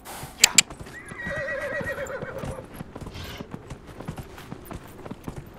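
A horse in Dragon Age Inquisition gives two sharp snorts and then a long whinny that rises and falls, followed by steady hoof clip-clops continuing through the rest.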